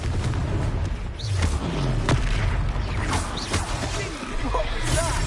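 A Confringo explosive spell goes off in the Hogwarts Legacy video game, landing as a few heavy booms and thuds over a constant dense game soundscape, with voices underneath.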